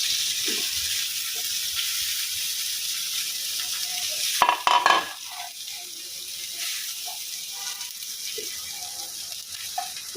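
Rice and vegetables with carrot are stir-fried in a clay pot, a steady close sizzle with scraping stirs, broken around the middle by a brief louder clatter, then continuing evenly with occasional utensil taps.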